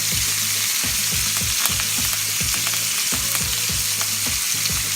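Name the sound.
ribeye steak searing in a pan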